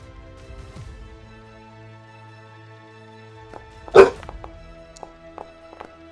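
A puppy lets out one sharp, loud bark close by, standing alone above a quiet, faintly humming room.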